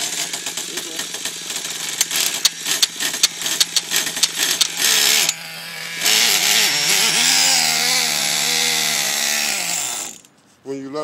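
Small engine of a radio-controlled car in Philadelphia buzzing loudly and continuously, revving in choppy bursts at first, then holding a steadier high whine before cutting off near the end.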